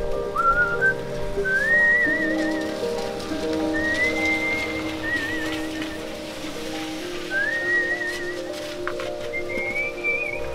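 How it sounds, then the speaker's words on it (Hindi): Someone whistles short rising phrases over steady heavy rain while people work in Mawsynram village, Meghalaya, the wettest place in the world; the whistle repeats every couple of seconds above a constant hiss of rainfall. "सीटी बजाकर इन लोगों की तरह बस अपने काम में लग जाएंगे"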